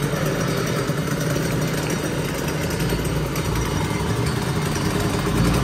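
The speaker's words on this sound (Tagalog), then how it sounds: "This is a 2-stroke engine." A Honda NSR 250 two-stroke 250cc motorcycle with a dry clutch idles steadily nearby, a constant low engine drone with rattling texture that holds level throughout, with no voices.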